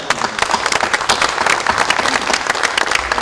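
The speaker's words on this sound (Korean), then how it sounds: "김진표 원내대표께 우리 격려 박수" Encouraging applause from lawmakers at a party caucus meeting, saluting floor leader Kim Jin-pyo: dense, steady clapping from a roomful of people, loud and continuous throughout with no pauses.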